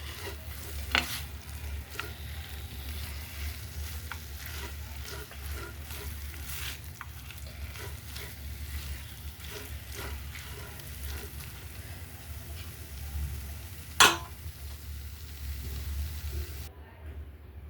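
Bread halwa with fried dry fruits stirred and simmering in a pan, a steady soft sizzle and scraping of the spoon running throughout, with one louder clank near the end.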